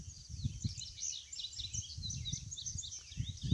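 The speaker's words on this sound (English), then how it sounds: "You hear the birds in the background." Faint birdsong chirps and twitters in the distance, with quick high calls repeating over a soft, low background rumble.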